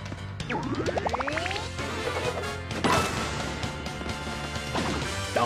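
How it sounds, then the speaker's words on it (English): A hammer swing smashes a group of Goombas in Paper Mario: The Origami King, a loud crashing impact preceded by rising springy sweeps, then a few lighter whacks afterward. "You smashed all four Goombas with a single swing."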